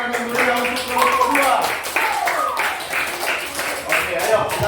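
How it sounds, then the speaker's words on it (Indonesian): Classroom group clapping for a student group after their presentation, a lively burst of many hands near and steady, with voices and chatter running underneath. "Ayo semuanya beri tepuk tangan yang meriah untuk kelompok"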